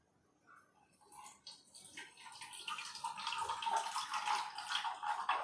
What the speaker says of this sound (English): Now we will pour some water